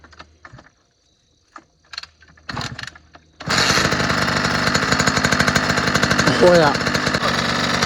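A two-stroke engine sputters with a few brief coughs and pulls, then catches and runs loud and steady with a rapid buzzing idle, while someone says a couple of words over it.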